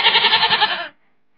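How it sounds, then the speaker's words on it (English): A farm goat gives a single loud, wavering bleat lasting just under a second, then falls silent. "It's a goat."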